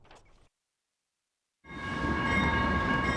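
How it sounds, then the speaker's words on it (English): A freight train in Fort Collins runs along the Mason corridor and sounds its horn. A short gap of silence comes first, then a loud, sustained horn blast over heavy rumbling and rail noise. "the required 100 decibel blast from their horns can be a nuisance to those living and working in the area"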